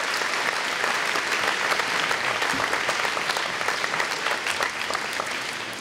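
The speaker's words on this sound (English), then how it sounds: "Give them another round of applause." Loud, dense clapping from a crowd honoring singers at a celebration event in Lawrence with the governor, sustained and close, tapering slightly toward the end.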